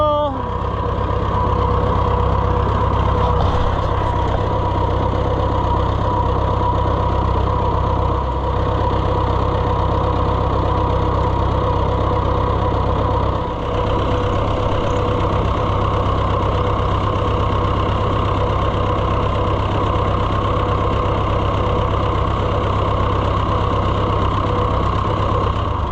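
An Oliver 600 High Crop tractor engine idles steadily nearby, a constant low chugging rumble with a knocking rhythm that holds for the whole stretch without a change in pace.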